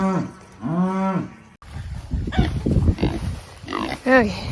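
Pigs in a farm pen grunting and squealing, with drawn-out harmonic calls close by, a pause, then busier rough grunts and another tonal squeal near the end.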